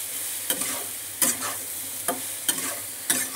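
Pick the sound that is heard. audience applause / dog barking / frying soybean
frying soybean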